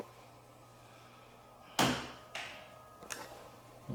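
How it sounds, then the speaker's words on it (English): A door moves inside an old school building, giving one sharp loud bang and then two lighter knocks nearby in an otherwise quiet room. "It was like the door moved."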